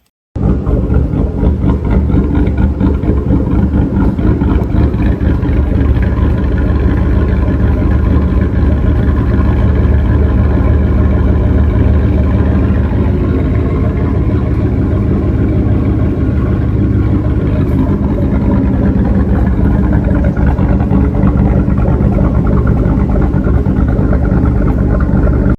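A Ford Explorer's engine, on a vehicle being rebuilt, runs loud and close with a steady, even idle for the whole stretch, with no voices over it.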